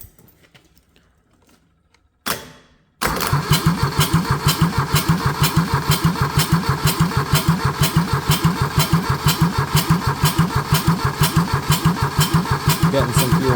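A Kubota D640 diesel engine fitted with a D722 cylinder head cranks briefly, then catches and settles into a loud, steady, rapid chugging idle with an even knocking rhythm close by.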